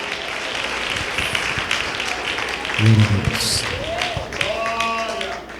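A church congregation at a Pentecostal service applauds, a continuous wash of clapping from many hands in a reverberant hall, with a voice speaking over it.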